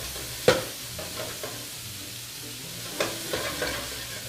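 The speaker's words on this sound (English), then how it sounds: "we're going to take our andouille sausage and our ham, we're going to saute them off, and we're going to brown them in our skillet" Andouille sausage and ham brown in a skillet with a soft, steady sizzle, punctuated by a few scraping knocks from stirring. It is close and quiet, with no voices.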